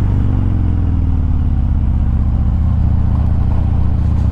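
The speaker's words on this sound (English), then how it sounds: "that racetrack, is just full of classic cars and hot rods" Classic cars and hot rods rumble at a racetrack, a loud, steady low engine drone with a tone that slowly drops and then holds throughout.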